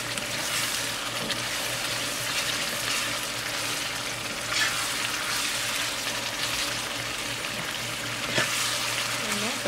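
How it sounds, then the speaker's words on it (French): A sauce with a little mustard powder fries in a pan, a constant loud sizzle with occasional scrapes as it is stirred, close and steady throughout with no talk. "Et là, je vais bien mélanger."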